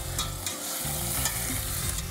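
Meat searing in a stainless steel multi-layer-bottom pot with clove, cinnamon, allspice and chili, a steady close sizzle with stirring scrapes throughout, no talking.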